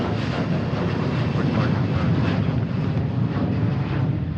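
A jet airliner takes off from Seattle-Tacoma airport, a loud, broad, steady engine roar with heavy low rumble and wind buffeting on the microphone, sustained throughout.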